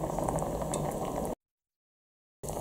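Flatfish simmering in sauce in a good-quality pot over medium heat, a steady close bubbling and faint sizzle that cuts to silence for about a second, then resumes.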